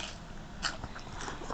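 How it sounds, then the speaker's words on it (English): Faint crunching of a child eating a Funyuns snack in the background: soft, irregular bites over a steady low hiss. "If you hear crunching in the background, that's my son eating Funyuns."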